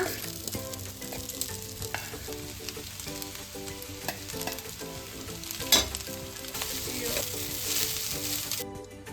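Boiled rice tossed into capsicum rice in a hot pan and stirred, a steady loud sizzle and frying hiss with scraping stir sounds throughout and one sharper clatter midway.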